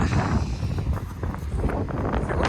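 Gusty outdoor wind buffets and rumbles loudly across a nearby microphone, steady throughout with no voices.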